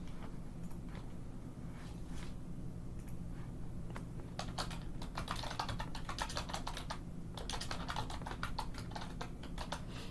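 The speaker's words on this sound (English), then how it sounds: "So I'm going to type this." Keys clatter on a computer keyboard in an indoor setting, with irregular bursts of clicks and a short pause midway, close and moderately loud over a steady low hum.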